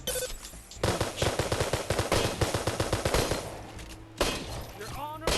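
Rapid automatic gunfire in a video game, loud and sustained in dense bursts for several seconds, with a brief pause before firing resumes.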